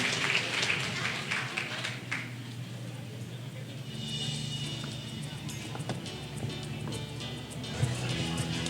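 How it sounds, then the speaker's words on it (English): Audience applause for three panel speakers at the close of a technology and careers session, a steady wash of many hands clapping at moderate distance for several seconds, with voices talking over it. "Let's give a round of applause to our 3 speakers."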